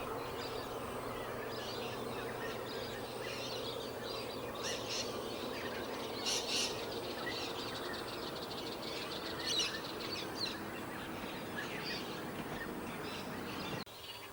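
Distant squawking calls of a white-breasted sea eagle along a river in Kakadu National Park at sunrise, faint bursts scattered over steady background hum and birdsong, with no talk.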